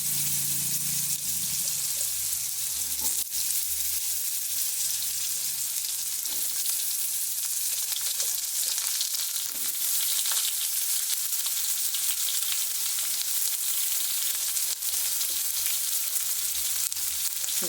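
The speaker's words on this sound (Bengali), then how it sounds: "ফোড়ন হিসাবে জিরে আর তেজপাতা দিয়ে দিলাম" Cumin seeds and bay leaf tempering in hot oil make a steady, loud, crackling sizzle that carries on throughout, with a few sharp pops and light clicks.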